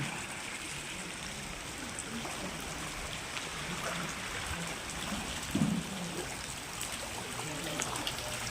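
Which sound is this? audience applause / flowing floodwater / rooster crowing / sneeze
flowing floodwater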